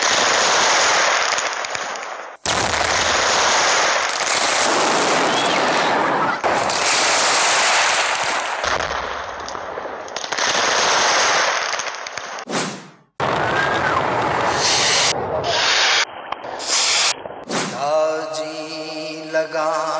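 New Year's night fireworks in the Philippines: loud, dense crackling and rapid bangs pour out almost continuously, broken by abrupt cuts between bursts and occasional sharper reports.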